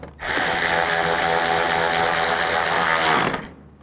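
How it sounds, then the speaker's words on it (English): A power tool whines loudly and steadily for about three seconds while tightening bolts during a radiator replacement on a 2011-2014 Chrysler 200, starting abruptly and trailing off at the end. "Now I'll tighten these bolts down."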